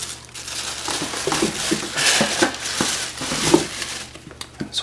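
Tissue-style wrapping paper crinkles and rustles inside a Retro 5 sneaker box during an unboxing, a steady close crackling with several sharper crunches, heard without talk.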